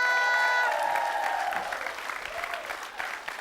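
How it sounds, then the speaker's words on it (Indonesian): A studio audience on a comedy show applauds for all the participants, a full burst of clapping with a brief tonal musical sting at the start, then continuing claps gradually thinning out. "kita kasih tepuk tangan dulu untuk semua peserta"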